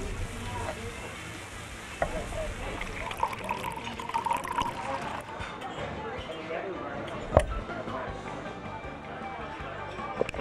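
Ice and water are poured into a glass, giving a busy fizzing, trickling clatter with a few sharp clinks of ice, close and steady throughout.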